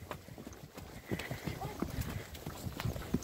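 Horse hooves clip-clopping on the ground outdoors during riding practice, an uneven string of soft steps with voices talking over them.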